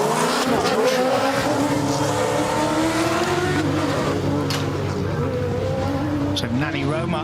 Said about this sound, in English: This is a treat to see the Dakar Ford Raptor. It's a 5-litre V8 and it's a Coyote engine.